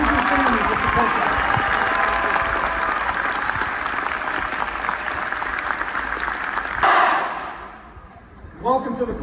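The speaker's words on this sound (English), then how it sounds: "please join me in a well-deserved round of applause for our drill instructors and the amazing families that support them" Large crowd applause for drill instructors and families at a Marine Corps recruit graduation ceremony on Parris Island, sustained loud clapping that cuts off abruptly near the end, followed by a brief voice.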